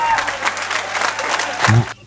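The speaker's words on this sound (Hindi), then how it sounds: "जो जो नाच रहे उन्होंने ही तालियां बजाई हैं।" Audience clapping at a Hindi comedy poetry show (hasya kavi sammelan), a dense, steady wash of applause that cuts off abruptly near the end, with a brief voice over it.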